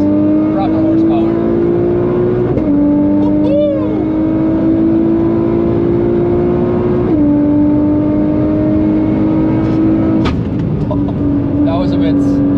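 A 608 wheel-horsepower Nissan GT-R at the Nürburgring pulls hard under acceleration, its loud engine drone climbing steadily in pitch, then dropping sharply at gear shifts before rising again, with people talking over the roar.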